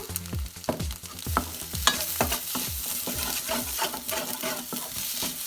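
Egg mixture frying in a pan while a spatula stirs and scrapes in quick, steady strokes over a continuous sizzle, close up and with no voices.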